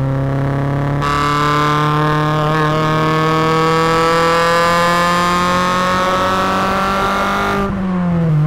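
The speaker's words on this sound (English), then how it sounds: "Luke sourced a HKS high power exhaust system from America and not from Japan." A 1980s Honda Integra XSi DA6 with a DOHC VTEC engine and an HKS high-power exhaust revs hard, its loud harmonic tone climbing steadily for about seven seconds before cutting off abruptly.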